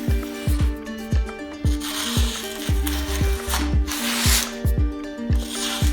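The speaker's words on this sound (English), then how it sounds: "Isn't this sound of the blade cutting the paper fantastic?" A Fox model 478 folding karambit knife slices through printer paper in a series of quick, crisp strokes, each one a short scraping rasp with a faint metallic ring, repeated steadily.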